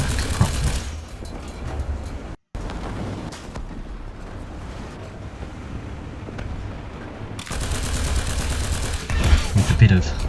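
War Thunder tank battle with heavy cannon fire and bursts of gunfire, loud and dense, a sharp cut near the start and stronger blasts toward the end, set against a constant rumble of battle.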